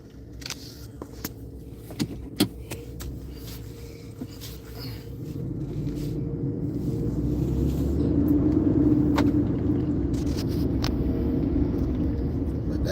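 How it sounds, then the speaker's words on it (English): Cars parking outdoors produce a low, steady engine rumble that slowly swells louder, with occasional sharp clicks and thumps like doors or keys, and faint voices in the background. "Like all these cars parking."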